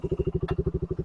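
A Yamaha Raider 150 motorcycle with a stock carburetor and racing CDI idles close by, its engine thumping in a steady, fast, even pulse with a brief mechanical clatter partway through.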